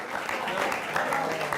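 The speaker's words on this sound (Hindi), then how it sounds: "तालियां कमजोर हैं आपकी।" Scattered, fairly thin applause from an audience at a Hindi poetry recital, steady clapping across the short moment with no voices over it.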